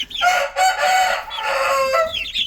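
A rooster crows loudly and close by, repeating its call a couple of times, while a hen clucks among the flock.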